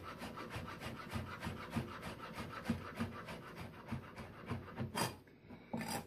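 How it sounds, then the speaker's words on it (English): Knife slicing basil on a cutting board, a quiet run of soft rhythmic cuts and scrapes against the board, evenly spaced and close. "I'm just kind of slowly slicing through all the basil here."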